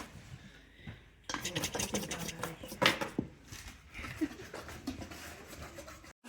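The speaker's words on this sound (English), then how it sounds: "and then you're going to whisk it. Like this." A whisk clatters against a bowl while mixing ginger, cinnamon, allspice and cloves for gingerbread, giving quiet, rapid scraping and tapping strokes.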